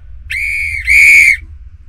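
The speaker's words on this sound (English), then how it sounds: "Just what I needed, a new whistle!" A coach's new whistle in a Roblox school game sounds as two loud, shrill blasts back to back, the first about half a second long and the second slightly longer and breathier, with no talking over them.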